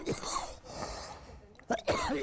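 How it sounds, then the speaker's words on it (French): A man coughs several times in short bursts, close by, with brief pauses and breathy sounds between them. "il ne s'est toujours pas débarrassé de sa toux"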